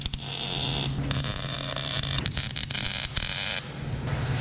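Tack welding a steel tube chassis with a 210MP welder: a close, continuous crackling sizzle broken by short gaps between tacks, with no one talking.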